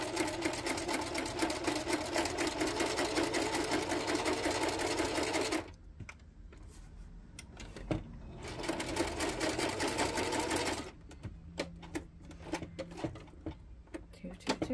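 A sewing machine stitches around the edges of a garden journal in two long runs of rapid, even mechanical whirring, separated by pauses filled with quiet clicks and handling of the pages.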